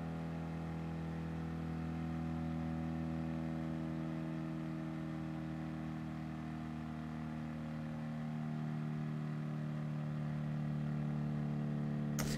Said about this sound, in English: This engine sounds like it's about to explode.